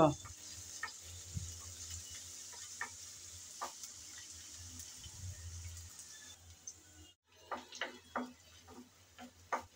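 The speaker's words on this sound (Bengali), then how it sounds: "এখন রসুন আর পেঁয়াজ কুচি হালকা করে নেড়েচেড়ে ভেজে নেব" Garlic and onion being stirred and fried in hot oil, with a steady soft sizzle throughout and scattered scrape and clink accents from the stirring spoon, close and moderately quiet.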